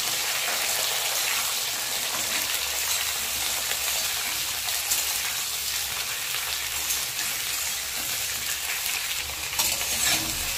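Vegetables sizzle and fry steadily in a hot pan while being cooked for a hilsa fish curry, a continuous close-up crackle with no talk.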